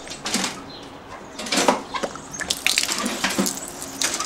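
Water runs down a hose into individual float-valve drinkers, splashing and trickling unevenly in close bursts with drips, the flow surging and fading over several seconds.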